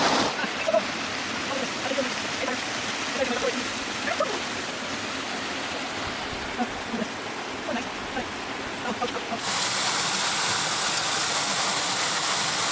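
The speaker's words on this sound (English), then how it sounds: "take some pictures if we get some more interesting angles of this waterfall" A waterfall heard outdoors as a steady broadband rush of falling water, continuous and fairly loud, growing fuller and louder in the last few seconds.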